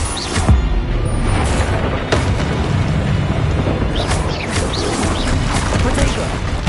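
Spell explosions from Bombarda and Confringo in the Hogwarts Legacy video game: a dense run of booming blasts and crashes over a steady rumbling combat bed, with several sharp bursts standing out.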